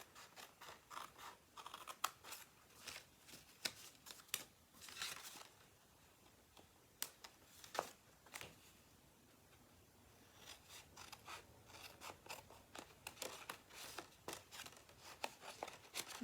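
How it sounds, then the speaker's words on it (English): Quiet metal snips cut through scored card in bursts of crisp snipping and scratchy rasping, pausing briefly before the close cutting resumes. "If you have longer scissors, it could be a little bit easier for you, but the snips work just fine"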